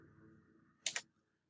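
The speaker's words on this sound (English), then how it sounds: "You can actually kind of start typing." A short double burst of keyboard key clicks on a computer during a Hyper-V guest OS setup, two sharp taps close together over a quiet background hum.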